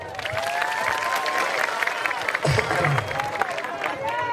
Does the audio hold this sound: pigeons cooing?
no